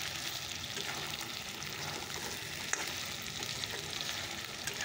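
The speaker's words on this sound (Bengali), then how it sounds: "আলুটা দিয়ে একটু কষিয়ে নিলাম" Potatoes being sautéed with spices and chicken in a pan for a curry, a soft continuous sizzle heard fairly quietly, with a few faint stirring taps and no talking.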